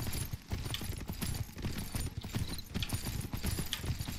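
Horse hooves clip-clop at a brisk, steady walking rhythm in the video game Myth of Empires, close and prominent with no talking.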